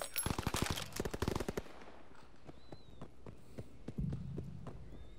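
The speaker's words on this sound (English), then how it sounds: "Keep firing." Gunfire in Call of Duty: WWII, a fast burst of automatic fire up front followed by sparser single shots and distant reports, moderately quiet overall.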